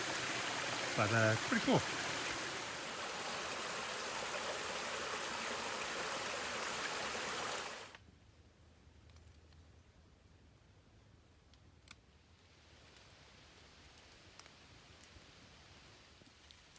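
Cave Creek on an Alabama trail flows with a steady broadband rush, loud and close for several seconds. Then it drops to a quieter, more distant trickling hiss. A person speaks briefly.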